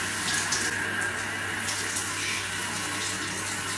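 Shower water runs steadily from the showerhead in a bathroom, a continuous close, hissing spray that stays loud and unbroken throughout, without speech.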